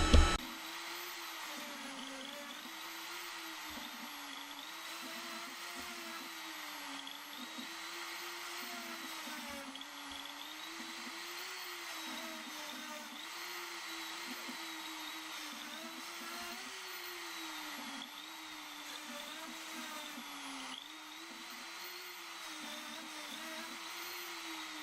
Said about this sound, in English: send it directly out to the X-Carve